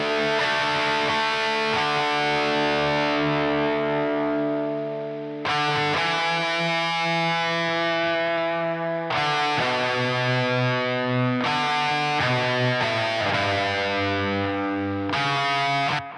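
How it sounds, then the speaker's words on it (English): A loud, gritty distorted electric guitar through an amp simulator, in an emo punk tone, plays sustained chords and single-note lines, with delay repeats trailing behind the notes. "you can hear the delay on that sort of like a single note part"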